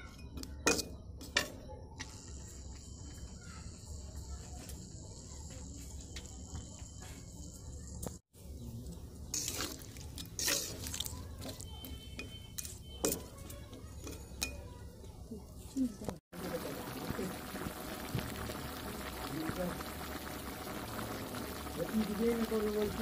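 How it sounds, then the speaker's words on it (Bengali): About half a litre of water is poured into a pot of mango chutney set to boil, with clinks of pots and utensils around the pouring and a voice talking in the kitchen. "হাফ লিটারের মতো জল দেওয়া হলো সিদ্ধ হওয়ার জন্য।"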